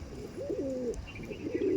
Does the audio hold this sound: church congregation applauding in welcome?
no